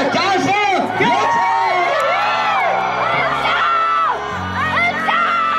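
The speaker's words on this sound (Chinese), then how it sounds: "让我们以热烈掌声、尖叫声、呐喊声，请出我们今天的主角Tara，掌声有请" Fans scream and cheer as T-ARA is introduced at The Fashion Ride event, a dense, loud wall of shrill overlapping voices and whoops that carries on without a break.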